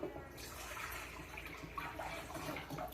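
Water is poured out, four cups of it, as the first step in making horchata. It is a faint, continuous splashing trickle lasting about three seconds, with little else audible.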